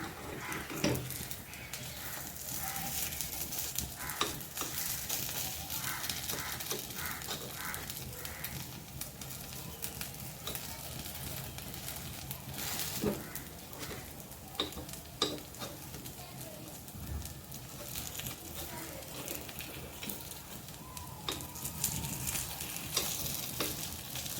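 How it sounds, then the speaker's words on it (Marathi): Brown rice and ragi appe fry in oil in an appe pan, a steady close sizzle and crackle running through the whole stretch with occasional stirring or scraping clicks. "छान पलटी झालेत आपले आपे सगळे दुसऱ्या साईडने पण परतून बघूया"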